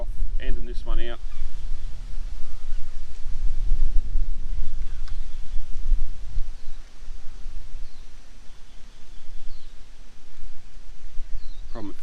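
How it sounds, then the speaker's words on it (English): Wind gusting over a river downstream from Howlong under darkening skies, a steady loud rush of wind noise on the microphone throughout, with brief bursts of a voice near the start and end. "those skies getting darker, the wind's starting to pick up"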